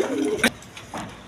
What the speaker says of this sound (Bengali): দর্শক এখানে এক পেয়ার গিরিবাজ কবুতর আছে দেখেন